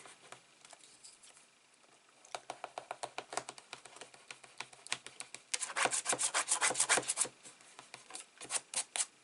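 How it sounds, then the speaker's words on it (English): A hand rubs glued wallpaper down onto a mini album page, a fast run of close scratchy strokes that builds in loudness midway, then resumes in shorter bursts. "Let's give this a rub, make sure none of this is coming off when we lift it"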